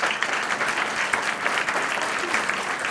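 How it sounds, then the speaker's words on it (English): Sustained audience applause at a university achievement awards ceremony, a dense, steady wash of many hands clapping throughout without pause. "Please give them a round of applause."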